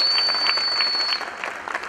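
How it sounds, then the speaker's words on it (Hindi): Audience applause for Shahid at a women achievers award ceremony, a dense, steady crowd clapping that holds loud and then thins slightly toward the end, with no talk over it. "एक बार जोरदार तालियां हो जाए शाहिद के लिए"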